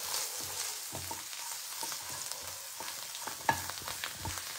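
Kashmiri chilli and sambar masala are stirred into a sizzling oil tempering, a bright continuous hiss with soft repeated stirring taps and one sharper clink, close and moderately quiet, no voices.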